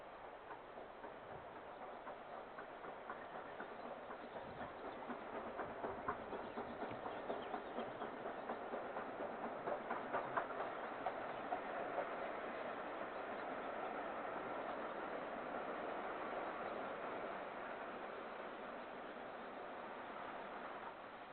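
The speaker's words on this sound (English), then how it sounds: "The engine is seen approaching Leversham Station with a train for Pickering on the North York Moors Railway." A Southern Railway Maunsell mixed-traffic steam locomotive draws a train into Levisham station on the North York Moors Railway, a faint, steady rumble with soft rhythmic clatter building gradually, heard at a distance with no talk.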